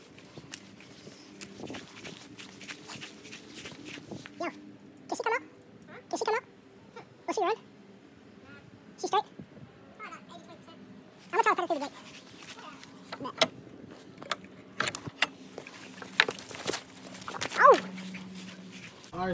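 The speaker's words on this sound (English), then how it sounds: "we got Brennan holding the dog like a baby" A dog being held like a baby whimpers, yips and barks in short bursts, scattered close and loud over a quiet indoor background with occasional rustling.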